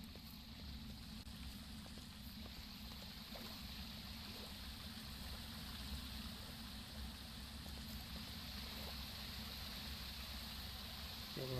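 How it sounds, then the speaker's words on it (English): Steady, loud rush of flowing water fills a Minecraft world in the MC Eternal modpack, a constant broadband wash with no pauses, close and dominant throughout, with faint game clicks here and there. "Just get rid of this water. It's really loud."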